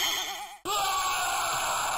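A character in a crude Boulder Dash-style Commodore Amiga game screams when killed: a loud, wavering synthetic cry that breaks off briefly, then a harsh, noisy burst of game sound continues alone.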